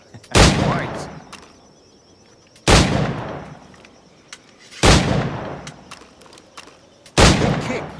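Pistol gunfire in the naval-era game Assassin's Creed IV: Black Flag: four sharp, loud shots spaced about two seconds apart, each cracking hard and then decaying into a brief rumbling tail.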